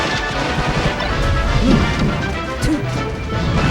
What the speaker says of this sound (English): Those crouch cancel down smashes.